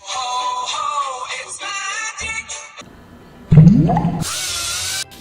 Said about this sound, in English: Now I'm going to put the whisk bowl. This is going to do the magic mixing.